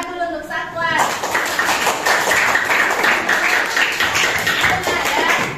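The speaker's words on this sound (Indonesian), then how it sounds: "Tepuk tangan dulu untuk satuan." A classroom of students claps hands together in a dense, continuous burst, loud and close, with some voices mixed in.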